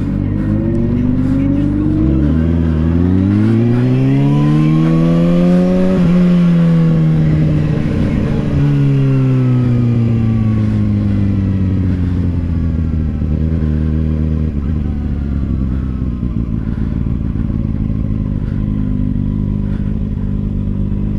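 Ferrari sports car engine revving, a loud close roar that climbs and falls in pitch over several seconds before settling to a steady drone, with voices talking over it.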